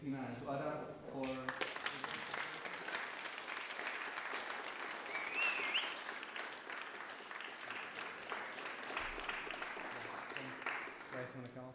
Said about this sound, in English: please give a big round of applause to Christina and to Adam